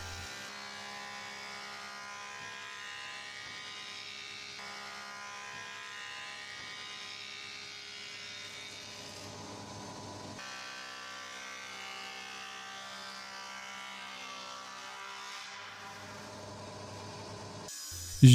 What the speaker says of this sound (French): Et à la raboteuse pour mettre la deuxième face parallèle à la première et amincir ma planche à son épaisseur finale.